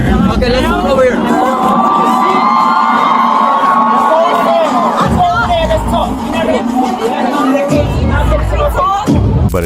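Dense crowd at a concert, loud and continuous, with whoops, cheers and shouting over a roaring hubbub, and close voices talking and yelling throughout.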